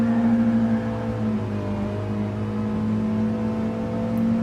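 Mini race cars at the Brands Hatch circuit, heard as a steady, moderately loud engine drone with sustained tonal harmonics that shift slightly in pitch as the cars carry speed through a corner.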